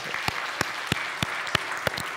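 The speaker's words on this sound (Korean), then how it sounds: "자, 우리 한번 하나님께 영광의 박수 한번 드리기 바랍니다." A church congregation at a Sunday worship service claps in praise, giving a short run of evenly spaced, sharp claps at a steady rhythm, moderately loud in a quiet hall.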